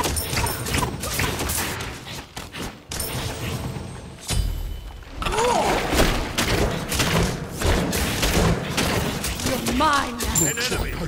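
A tower being destroyed in the video game Smite: heavy thuds, booms and crashing impacts pile up in dense bursts, with rapid clattering hits and in-game voices over the chaotic battle effects.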